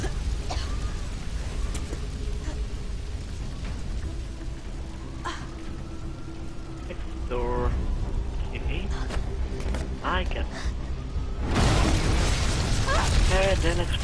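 An explosion in the video game Beyond: Two Souls erupts loudly near the end as a broad roaring burst, following a stretch of steady game ambience with mechanical clanks, pops and brief voices.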